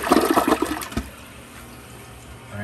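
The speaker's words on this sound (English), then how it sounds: "I don't remember if I pushed half or full flush" Newly installed dual-flush toilet flushing, a loud close rush of water that drains away within a second, followed by a quieter steady refill hiss.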